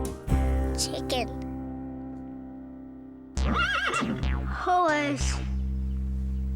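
A horse neighs in two separate bouts, each a loud, quavering whinny that rises and falls, with a steady low hum and a sharp tap between them.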